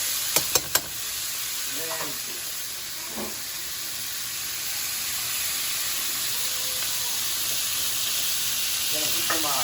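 Big chunks of onion and carrot searing with bone-in short ribs in a hot pan, a steady loud sizzle and hiss throughout, with a few sharp clinks at the start and brief bits of talk.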